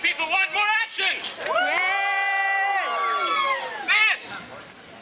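A live show audience cheers, whoops and shouts in a loud, sustained roar of mixed voices including children, swelling and falling over several seconds.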